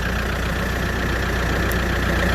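The engine of a Daedong RX570 tractor with a charging fault idles steadily and loudly up close, a continuous low rumble with no talking.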